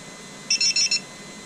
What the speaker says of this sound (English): Well, that beep is great to hear.